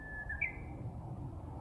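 A single bird on Sobaeksan mountain gives a brief, thin whistled call that rises slightly, faint over a low rumble of outdoor background, with no one talking.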